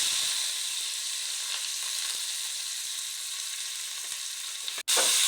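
Onions sizzle steadily in oil in a wok, a continuous even frying hiss with light stirring clicks, briefly cut off near the end before resuming.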